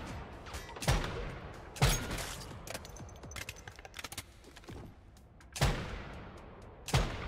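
Sniper rifle shots in the video game Once Human: four loud, sharp cracks spaced about a second or more apart, separated by quieter clicks and rattles of in-game action.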